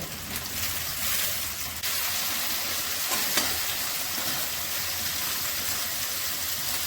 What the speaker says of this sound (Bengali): চিংড়ি মাছগুলো দিয়ে দিচ্ছি